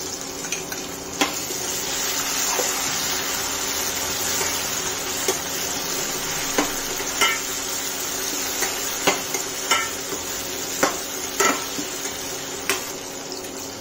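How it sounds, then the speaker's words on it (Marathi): Tomatoes are added to fried onion in a pan, sizzling steadily, while a spoon scrapes and taps against the pan in irregular clinks throughout. "त्यात मी आता टोमॅटो टाकते"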